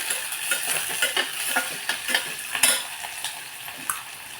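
Sliced onion sautéing in a pan for Khandeshi matki dal, stirred with a steady rhythm of scraping strokes over a continuous bright sizzle, close and moderately loud, with no talking.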